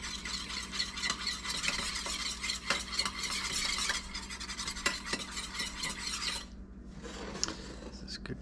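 A spoon stirs a cornstarch slurry into egg drop soup in a pot, making steady close scraping and swirling for several seconds before it stops and only faint rustles remain.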